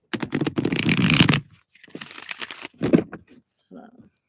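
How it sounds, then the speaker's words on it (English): A deck of oracle cards being shuffled up close: several quick riffling and flapping bursts, loud and papery, separated by brief pauses. "I'm gonna shuffle these cards. I'm gonna pre-shuffle these oracles"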